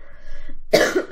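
A single harsh cough bursts out close to the microphone after a second of quiet, faint background tones.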